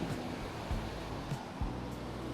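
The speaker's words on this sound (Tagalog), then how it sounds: "Malakas yung alon, delikado." Rough, rumbling surf with heavy waves washing in, low churning noise broken by a few deeper surges, with wind blowing across the microphone.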